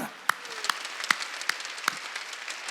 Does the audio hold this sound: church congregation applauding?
yes